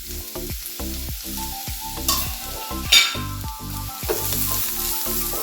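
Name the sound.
carrot sautéing in ghee for payasam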